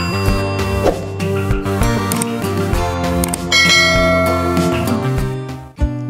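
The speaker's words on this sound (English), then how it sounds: "Teacher's bell." A teacher's bell rings out in bright, sustained metallic tones, with several overlapping strikes that ring on and blend, loud and close with no talking.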